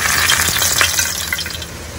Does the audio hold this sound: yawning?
no